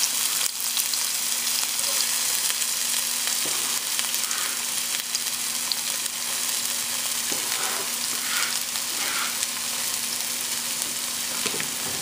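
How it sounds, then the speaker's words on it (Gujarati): Chopped green onions sizzle in hot oil in a pan, giving a steady, even crackling hiss throughout with no talking. "તો આપણું તેલ ગરમ થઈ ગયું છે ને આપણે એની અંદર આપણે લીલી ડુંગળી નાખી દઈશું"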